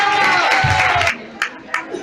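Audience at a traditional women's supper in Sant Quirze bursts into applause and cheering, a dense crowd wash that cuts off abruptly, followed by a few scattered claps and murmurs in a quieter room.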